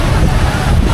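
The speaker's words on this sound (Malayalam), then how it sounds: "കാറ്റുള്ളതുകൊണ്ടാണ് ഇത്രയും ഹെവി ആയത്." Heavy rain lashed by strong wind outdoors in Manila, a dense, steady roar of broadband rushing noise that stays loud and unbroken throughout.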